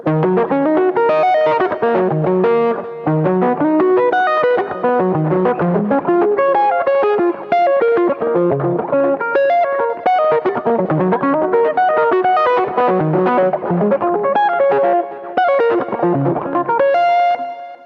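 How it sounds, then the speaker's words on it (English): Distorted electric guitar plays a steady stream of arpeggiated notes with an effects-heavy, slightly echoing tone, continuous and loud for the whole stretch. "practice it with the distortion and in arpeggiated format"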